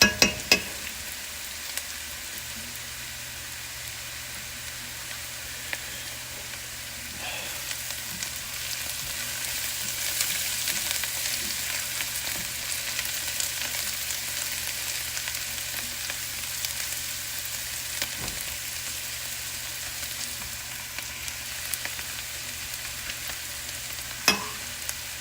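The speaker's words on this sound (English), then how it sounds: "We're frying up some onions right now for taco meat." Onions sizzle and crackle steadily in a hot pan for a long stretch, with occasional louder pops and stirring clatters, no talking.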